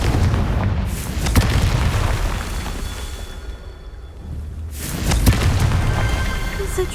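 A Confringo spell explosion in the video game Hogwarts Legacy, a loud rumbling boom that fills the clip, eases briefly, then swells again with a second blast, while a voice shouts over it.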